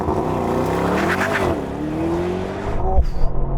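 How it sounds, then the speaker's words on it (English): A Mercedes-AMG GT 63 accelerates hard in a quarter-mile drag race, its engine note climbing steadily through a gear before a shift, loud and fairly close, ending in a brief roughness with no talking. "AMG GT 63, let's go."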